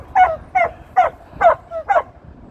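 Golden retriever barking while herding sheep: five or six short, sharp barks in a steady rhythm, fairly close and loud, with no talking over them.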